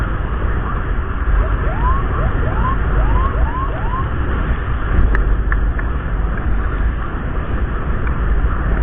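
An ambulance siren wails in repeated rising sweeps during an escorted run in heavy rain, under loud, constant road and engine rumble, then fades into the steady noise.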